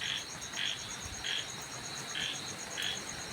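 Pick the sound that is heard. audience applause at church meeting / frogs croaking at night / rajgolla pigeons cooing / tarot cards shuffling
frogs croaking at night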